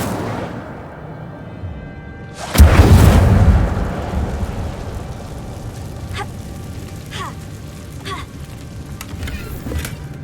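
A fire spell cast in the video game Hogwarts Legacy bursts out as one loud, broad whooshing blast that fades into a crackling rumble, followed by scattered faint ticks and game ambience.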